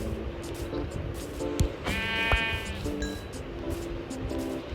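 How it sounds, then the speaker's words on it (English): Sheep in Minecraft bleat a few times, a short wavering call standing out over a quiet game background, with faint scattered blips and no speech. "Oh, that's another sheep."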